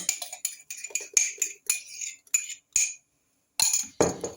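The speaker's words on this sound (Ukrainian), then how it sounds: "І знову ж таки гарненько розмішую." A spoon clinks and scrapes in a bowl while homemade cookie batter is stirred, giving quick, close, regular metallic taps in a steady rhythm with a short pause near the end. No voices.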